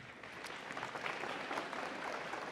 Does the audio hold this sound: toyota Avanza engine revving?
no